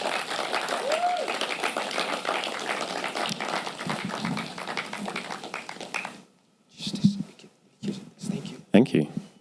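An audience applauds a speaker coming on stage at a talk, dense clapping filling the room for several seconds before cutting off, after which a voice speaks between a few louder bumps.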